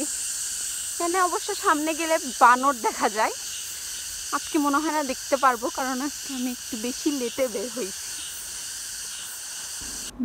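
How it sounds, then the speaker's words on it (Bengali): Crickets in a hilly, wooded stretch of Quanshan Park in Xuzhou, China, keep up a steady, high, shimmering chirp throughout while a person talks over them nearby. "ঝিঝি পোকার ডাক শুনতে পাচ্ছি।"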